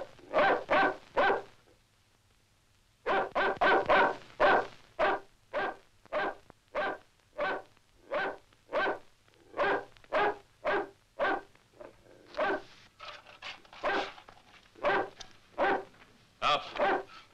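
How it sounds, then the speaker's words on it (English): A dog barks loudly and close by in a long run of sharp, evenly spaced barks, with a short quiet break near the start before the steady barking resumes. "We'll see if that dog can move you."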